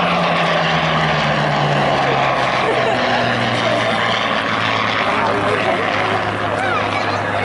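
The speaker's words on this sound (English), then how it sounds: "as you feel that engine spool up. A wonderful Merlin." A Supermarine Spitfire Mk 5 with a Merlin engine roars past at an air festival, with a steady, loud propeller-engine drone that holds throughout and shifts slightly in pitch as the aircraft passes.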